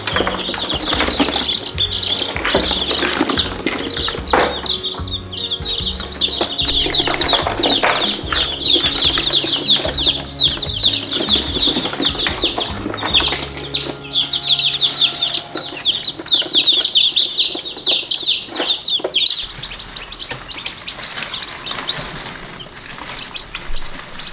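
Newly hatched chicks in a brooder, a crowd of about thirty cheeping loud and nonstop in high overlapping peeps, with rustling and shuffling beneath, before the sound drops away near the end.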